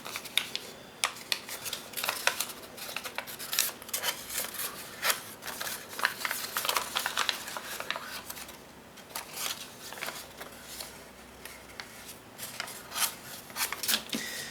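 Paper is creased and folded by hand for a 3D origami tessellation. Soft, close crinkling and sharp rustling bursts come in uneven clusters, with quieter rubbing between them.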